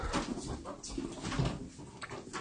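Puppies whimpering softly indoors, a string of thin high whines and yelps at low volume, close by and mixed with faint rustling and a little background noise.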